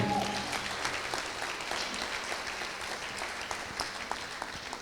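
A church congregation applauds in praise during a worship service, a broad, steady clapping wash with individual claps popping out, continuing evenly across the moment.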